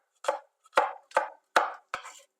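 Garlic cloves pressed and crushed on a board while cooking Turkish-style chard, five distinct crunchy presses in an even rhythm, close and clear with no talk.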